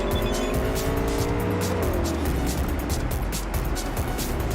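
A motorbike races along in the video game Cyberpunk 2077, its engine droning steadily with a brief pitch drop, over constant road and tire noise.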